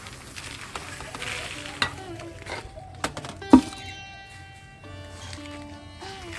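Dry, crumbly cow dung manure is mixed by hand into potting soil in a tub, giving soft rustling and scraping with a few sharper knocks near the middle, close and moderately loud.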